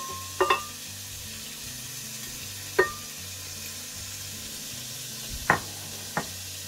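Garlic and tomatoes frying in a pan for vegan jackfruit tinga give a steady, close sizzle, with a few sharp utensil clicks scattered through it.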